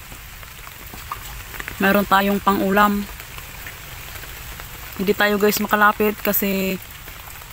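Steady rain patters on surfaces throughout, a constant hiss of drops, while a person talks over it in two bursts.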